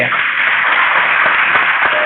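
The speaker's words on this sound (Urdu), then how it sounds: "بھرپور تالیاں ہونی چاہیے" Audience applause at a board exam results ceremony for position-holder students, a dense, loud, steady wash of clapping from many hands with no voices.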